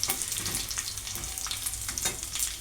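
Cumin and other whole spices sizzle and crackle steadily in hot oil in a pan while dal is being prepared, a dense bright frying hiss with occasional louder pops and stirring scrapes, no voices.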